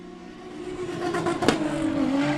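A drift car's engine screams near the rev limiter at a drifting championship, a loud sustained high-rpm drone with stuttering limiter bounces and faint tire noise.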